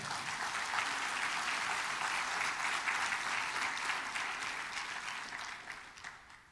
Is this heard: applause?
yes